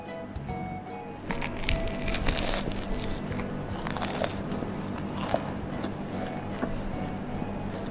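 Crisp puff pastry of a Portuguese egg tart crunches and crackles under close bites. The sharp, brittle bursts come in a few separate clusters over quiet room sound.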